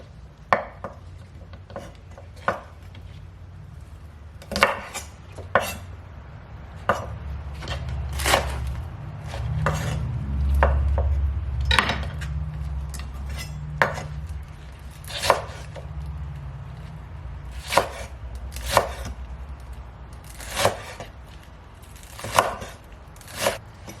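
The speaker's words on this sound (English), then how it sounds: "For the spring onions here, I'll just cut them into small chunks." A knife chops spring onions into small chunks on a board for a Japanese nabe hotpot, a long run of sharp, irregular close-up cuts with steady low background rumble.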